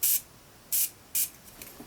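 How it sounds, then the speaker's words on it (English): Makeup setting spray mists onto a sponge in three short, crisp hissing bursts, close to the microphone, separated by brief pauses with no talking. "I always take my setting spray and spray a little bit"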